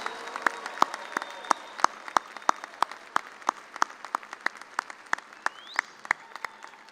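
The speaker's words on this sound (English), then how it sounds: "Let's give them a big round of applause." Applause for graduates at an agriculture college's fall 2024 commencement ceremony: steady clapping from a large audience in a hall, with sharper individual claps standing out in an irregular rhythm, moderately loud and continuous.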